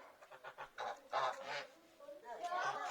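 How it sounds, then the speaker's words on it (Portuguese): Geese honk loudly and repeatedly outdoors at night near a bonfire, several harsh calls in quick succession, close by, with a voice briefly audible among them. "E esse ganso..."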